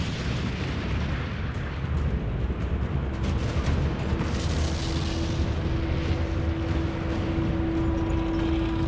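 Artillery fire and explosions in a WWII tank battle with German Tiger tanks form a loud, dense, continuous rumble of booms and crackling blasts, with a steady droning tone under the din.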